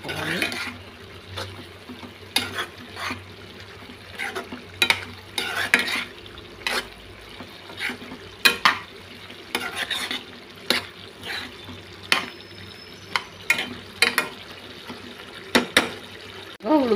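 Raw prawns are stirred in a frying pan with green chillies and chilli powder, a spoon repeatedly scraping and knocking the metal pan over a low steady sizzle, close and fairly loud, with no talking.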